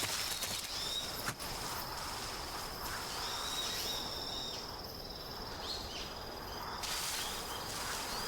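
Tree frogs croak and trill continuously in the jungle of the video game Metal Gear Solid 3, a faint, dense chorus over steady ambient hiss with no voices.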